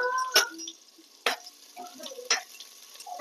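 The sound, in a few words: onion frying in hot oil in a pressure cooker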